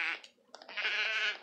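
Sheep bleat loudly and close by on a farm, with a long wavering cry at the start, a short break, then another sustained bleat that fills the rest of the moment.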